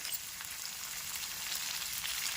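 Chilli thecha and asafoetida sauté in hot oil while idli batter mix is prepared, giving a steady, close hiss of frying with fine crackle that holds evenly throughout.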